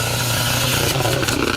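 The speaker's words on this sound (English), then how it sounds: "That's the sound of a car desperate to get to its trailer." A struggling rally car engine revs on the final stage of a forest rally, a rough, close mid-pitched drone with uneven throttle surges over the short span.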